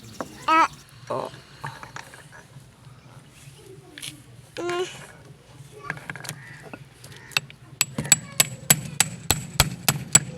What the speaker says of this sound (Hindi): ये हथौड़ी की मदद से हम इसको निकालेंगे और फिट भी इसी की मदद से करेंगे।